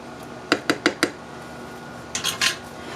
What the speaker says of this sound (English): Mix these all together. So we're going to stir it.